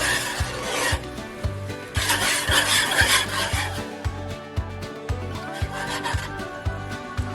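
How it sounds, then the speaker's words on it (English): A spoon stirs half a block of cream cheese into a pot of beef stroganoff, making a rhythmic, close scraping and rubbing against the pot, about twice a second. "Half a block of cream cheese. I'm going to stir all this together."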